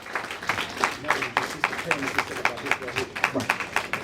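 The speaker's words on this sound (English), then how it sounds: "Give him a big round of applause," An audience claps for Dr. Umar Johnson in a rhythmic run of sharp, fairly close hand claps at an even pace, with voices talking over and between the claps.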